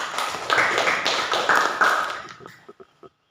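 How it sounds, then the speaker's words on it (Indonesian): Students in a classroom give a fellow student a round of applause, with dense clapping for about two and a half seconds that trails off into a few scattered final claps. "Kita berikan aplaus untuk Revaldi"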